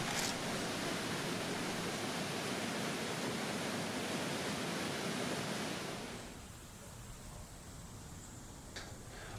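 A waterfall in Linn Park, Glasgow, a broad hissing roar of falling water that holds steady, then drops noticeably quieter partway through and continues as a softer rush.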